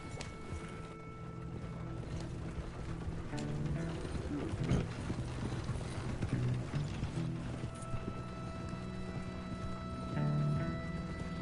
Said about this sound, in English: My horse is Mohawk.